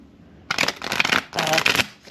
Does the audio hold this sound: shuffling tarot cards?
yes